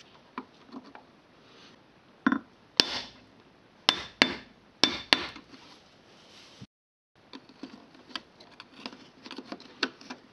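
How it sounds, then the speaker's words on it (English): Punch or small screwdriver tapping and pushing down the centre of plastic bumper retaining pins on a VW Golf rear bumper cover, giving a handful of sharp, close knocks and clicks amid quieter handling noise, with no talking. "In the corners of the bumper, use a punch or a small screwdriver to push down the center"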